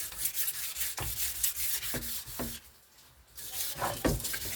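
Fine sandpaper scrubbed hard against a soot-blackened cooking pot, close-up rhythmic rasping strokes with short gaps between passes and one brief pause midway, no talking.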